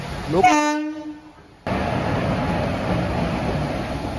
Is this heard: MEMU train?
yes